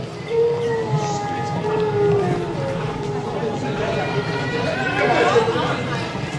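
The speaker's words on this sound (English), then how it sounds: "What you're hearing is recorded whale song." A male whale's recorded underwater song carries long, sliding moaning tones that rise and fall across several seconds, moderately loud over a murky wash of background noise.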